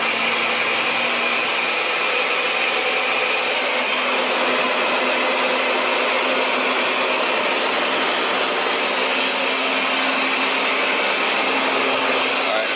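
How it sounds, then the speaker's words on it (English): A blender runs at full blast on a green smoothie, a steady loud whirring roar that holds constant throughout with no talking. "I'm turning this on full blast"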